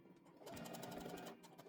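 A sewing machine runs a short back stitch on a fabric coffee koozie, giving a quick, even burst of needle pulses close by and at low volume.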